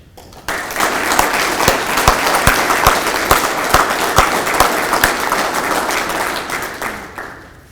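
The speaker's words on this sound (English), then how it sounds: "Thank you all for that kind of round of applause." A large audience at a Hall of Fame induction ceremony breaks into loud, sustained applause for an inductee, a dense wash of clapping that starts abruptly, holds steady for several seconds, then tapers off.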